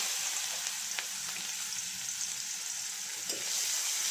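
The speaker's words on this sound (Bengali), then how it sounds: "পেঁয়াজ নাড়াচাড়া করে ভালোভাবে ভেজে নেব" Chopped onion and whole cumin seeds fry in hot oil with a continuous, fairly soft hiss, marked by a couple of brief stirring clicks.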